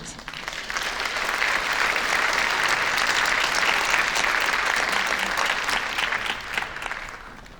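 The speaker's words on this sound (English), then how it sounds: "Join me in giving Pat a round of applause as he performs" Sustained applause from a community show band audience, a steady dense clapping that swells and holds for several seconds before tapering off, with no voices over it.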